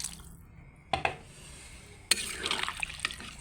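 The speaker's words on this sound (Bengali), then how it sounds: "আর গরম জল অল্প অ্যাড করে দিচ্ছি" Hot water poured into a pan of curry in a home kitchen, two short splashy bursts of liquid up close, the second longer and followed by bubbling and stirring sounds, with a faint quiet background before.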